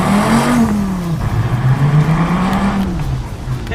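A Dodge Viper sports car, the light, low-slung, $90,000 model, pulls away with a loud, close engine note whose pitch rises, dips, then climbs again as it accelerates, with no one speaking.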